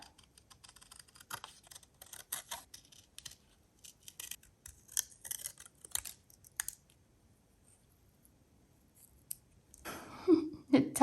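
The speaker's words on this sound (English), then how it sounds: "Let's cut it out." Scissors cutting out a paper drawing done in wax pastels and black outline, a series of quiet crisp snips and paper rustles, ending in louder handling close up.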